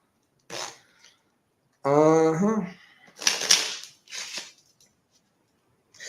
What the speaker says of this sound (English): All right, I'm gonna shuffle it up.